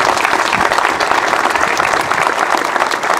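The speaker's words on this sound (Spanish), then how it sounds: "Realmente pido un fuerte aplauso para él" Loud, dense audience applause at an April 2 commemorative ceremony in Carmen de Areco, continuous clapping from a crowd throughout.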